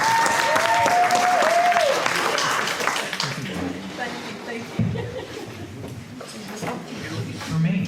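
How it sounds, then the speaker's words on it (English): A crowd applauding at a Rotary club noon meeting, loud clapping at the start that gradually thins and fades, with scattered voices and laughter mixed in toward the end. "give them all a big round of applause and tell them thank you"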